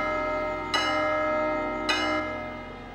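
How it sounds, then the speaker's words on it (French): A church bell rings as an alarm, two deep resonant strokes about a second apart, each with a long humming decay that overlaps the next, loud and alone. "Que l'on sonne la cloche de Joseph!"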